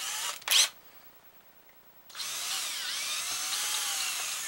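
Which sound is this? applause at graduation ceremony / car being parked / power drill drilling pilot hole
power drill drilling pilot hole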